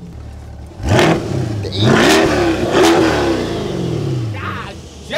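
A C8 Corvette engine revs hard in several loud bursts, rising and falling, with someone talking over it nearby.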